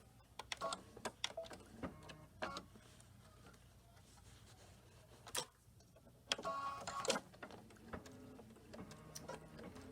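Sewing machine stitching, faint and fairly close, with short uneven bursts of rapid needle clatter separated by quiet gaps and a couple of louder thumps.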